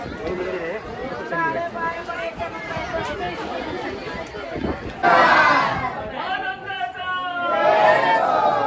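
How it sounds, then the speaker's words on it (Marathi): Pilgrims crowd the main gate of the Khandoba temple at Jejuri, filling the air with a continuous babble of chatter and calls, with nearby voices rising louder in the second half. "इथे पण किती गर्दी आहे"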